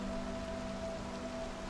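Rain falling on a planet in the Star Citizen video game, a faint, steady hiss of rainfall under a low constant hum, brief and without voices.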